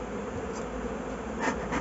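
A dense, steady buzzing of many honey bees, close and continuous for a couple of seconds.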